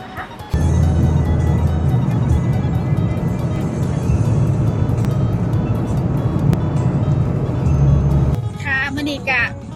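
Steady road rumble and engine drone from inside a car heading to deliver an Isuzu D-Max pickup in Sisaket, Thailand, continuous and loud until it drops away near the end, with someone talking over it.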